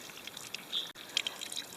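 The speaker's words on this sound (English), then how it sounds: "I get to warm my bum on a heated rock while I have cool water dribbling over my head." Cool water dribbling over a person's head and onto a heated rock outdoors, a soft, close trickle with scattered splashy drips and light spatter.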